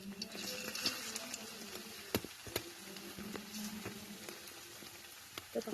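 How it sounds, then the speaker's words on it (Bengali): Rice flour vegetable pakoras frying in hot oil: a steady, faint sizzle and crackle close by, punctuated by a few sharp pops and utensil taps. "এখন একে একে আমি সব পাকোড়াগুলো তেলে ভেজে নেব।"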